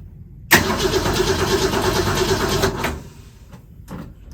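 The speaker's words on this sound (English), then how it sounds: "You just turn the key and it starts." A 1966 Ford Mustang turned over with the key on a cold day: a sudden crank bursts into a loud, rough engine roar that holds steady for a couple of seconds, then drops to a lower idle.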